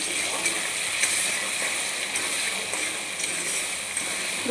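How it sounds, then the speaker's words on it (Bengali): Potatoes with turmeric and salt fry in a pan, a dense, even sizzle that holds close and loud throughout with no voices. "চার মিনিট আমি এইভাবে আলুটাকে ভেজে নেব"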